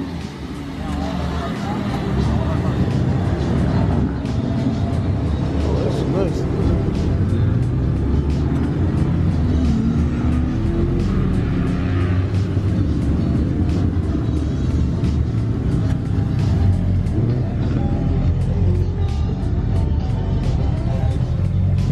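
An Audi R8 engine starts and pulls away, a sustained loud rumbling drone that stays steady and close, with people talking faintly underneath.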